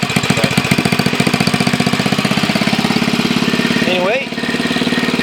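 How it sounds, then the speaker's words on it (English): A Briggs & Stratton 5 horsepower small engine, recently freed from seizure with a replaced top ring, runs steadily close by with a rapid, even chugging beat, while someone talks over it briefly near the end. "I'm kind of surprised it's not smoking a lot, considering it was seized up."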